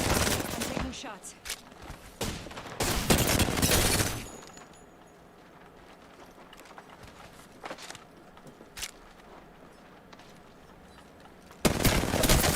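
Video game gunfire comes in loud, repeated bursts and single shots early on, then quieter scattered shots and movement, ending with another loud burst of gunfire.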